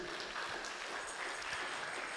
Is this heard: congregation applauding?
yes